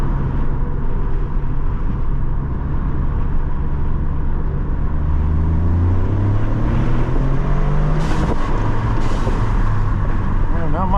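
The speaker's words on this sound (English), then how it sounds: "Let's make one more attempt to try and get some exhaust sounds out of this thing." Toyota GR Corolla engine and exhaust heard from inside the cabin with the windows down, a steady low drone that rises and falls through gear changes, with road and wind rush throughout and faint talk mixed in.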